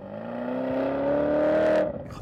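A 2023 Porsche Cayenne Turbo GT V8 in normal mode revving under throttle from inside the cabin, a smooth rising engine drone that swells for about two seconds, then drops off abruptly.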